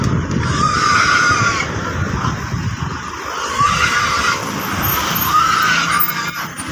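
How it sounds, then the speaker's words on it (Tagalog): Shrill, repeated squeals from a large group of pigs, animals from Guimaras crossing the Iloilo River, sound loud and close over a noisy background, recurring in bursts throughout. "Baboy."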